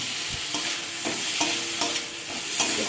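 Chopped tomatoes with ground spices frying in a pan, a steady sizzle throughout with soft periodic scrapes of a spoon stirring, close and alone without talk.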